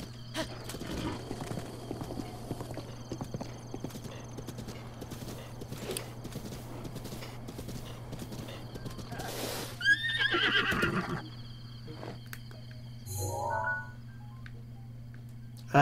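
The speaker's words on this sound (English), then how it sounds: "I like that black horse." A black horse in Breath of the Wild trots with a steady, rhythmic clip-clop of hooves, then lets out a loud neigh, with a second, shorter whinny a few seconds later.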